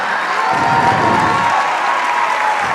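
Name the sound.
audience applause for a speaker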